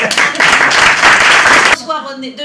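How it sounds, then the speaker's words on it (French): Loud applause from an audience at a cultural show breaks out in a dense burst that lasts under two seconds, then stops abruptly as speech resumes. "je vous demande d'applaudir très fort."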